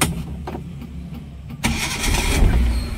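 A 1987 Suzuki Carry minibus engine cranks briefly and catches, then settles into a close, steady idle rumble with no talk.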